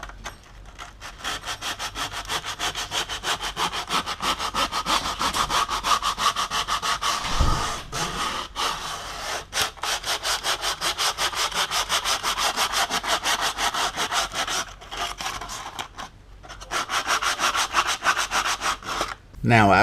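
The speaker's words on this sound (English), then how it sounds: "you're gonna get yourself some 320 grit sandpaper, and you're gonna sand all the area" Quick back-and-forth sanding strokes of 320 grit sandpaper on a 2020 Dodge Charger body panel, a loud steady scratchy rasp running nearly continuously, with a couple of brief pauses.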